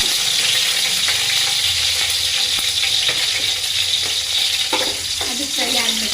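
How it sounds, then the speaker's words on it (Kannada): Chicken gravy masala fries steadily in a pan, a loud continuous sizzle with occasional sharper crackles and pops from bursting chilli seeds, no voices over it. "ಅದು ಫ್ರೈ ಆಗಬೇಕು."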